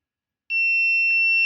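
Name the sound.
IoT parking system buzzer sounding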